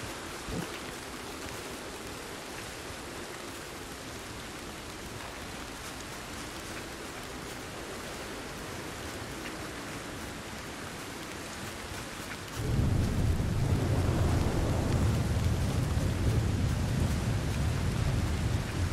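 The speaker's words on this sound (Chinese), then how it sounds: "这里真的很容易下雨" Steady heavy rain hisses throughout the Red Dead Redemption 2 storm, then a deep rolling thunderclap breaks in near the end and rumbles on loudly under the downpour.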